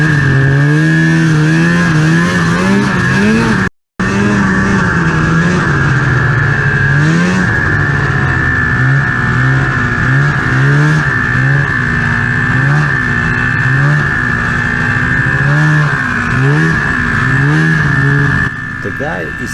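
A car engine revs hard and repeatedly, rising and falling in pitch as the stuck car strains to move, loud and close throughout with a brief dropout near the start and people talking over it.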